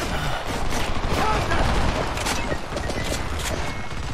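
Dense, continuous gunfire and combat noise in the shooter game Homefront, loud and close, with a shouted voice mixed into the chaos.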